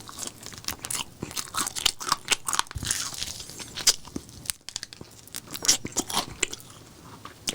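Loud, close crunching bites and chewing of crispy KFC chicken wings, crackling in rapid irregular bursts with no talking.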